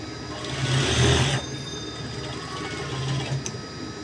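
A sewing machine stitches the joint of a churidar pyjama, whirring in a loud rapid burst for about a second, then running on more quietly with a faint mechanical hum and a light click.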